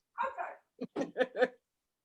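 A dog barks or yips in a short run of about five sharp, close bursts, with a brief pause after the first two, heard alone during an online committee meeting.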